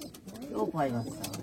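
An older Rajshahi Girbaj pigeon lets out a single brief, throaty coo up close, rising and falling over about half a second against quiet background noise.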